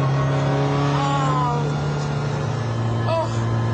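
A 2.5-litre rally car drives along the M4 motorway with a steady, loud engine drone throughout, rising briefly in pitch as it accelerates, while someone talks over it.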